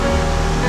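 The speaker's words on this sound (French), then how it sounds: "le ruisseau du Perrailler qui coule fortement" The Perrailler stream runs hard through a gorge at an old mining site. It makes a steady, dense rushing roar of water, close and continuous, with no voices.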